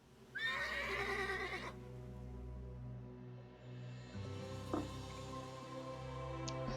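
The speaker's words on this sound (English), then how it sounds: "Kasura has agreed to let us borrow her horses." A horse in Elder Scrolls Online Dragonhold gives a loud, shrill whinny that falls off after about a second, followed by quieter snorts and a second shorter whinny against a low ambient hum.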